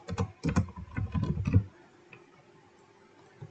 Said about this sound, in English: In my terminal, I will type